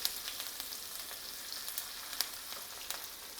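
Asafoetida, green chili pieces and curry leaves sizzle in hot oil as a tempering, with a steady broadband crackle and faint pops throughout and no voices.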